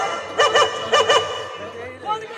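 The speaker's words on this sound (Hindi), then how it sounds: "संभाला अपन अपन कुत्ता।" A dog barks in two quick double bursts at a village gathering with folk dance, loud and close, while people talk and shout over it.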